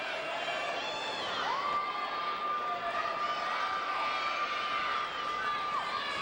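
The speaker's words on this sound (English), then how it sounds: "the crowd is really loud here at this Big Ten Championship" A loud crowd cheers and shouts at the 2009 Big Ten women's gymnastics championships, a continuous arena din with a long whistle tone running through it.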